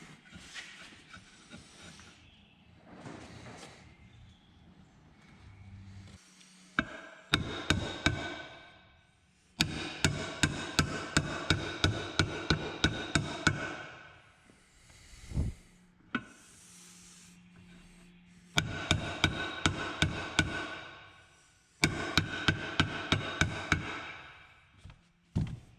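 A timing cover seal on a Dodge Ram 3.9 or 5.9 engine is driven in with a socket: bursts of sharp, rapid metallic taps repeat close by, separated by rubbing and handling sounds.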